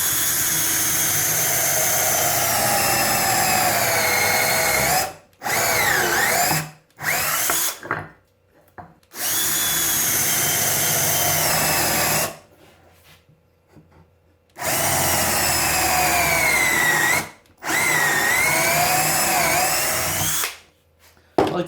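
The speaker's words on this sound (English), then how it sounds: "I like to countersink these holes, and I did so quite deeply" A power drill with a countersink bit bores into a wooden tool holder, running loud and close in long sustained bursts separated by brief pauses, its pitch shifting as the bit cuts.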